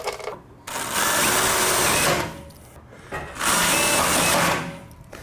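Screws driven into carport framing during a screened-porch conversion come as two loud, whirring bursts, each lasting over a second, with a short pause between them and no talking.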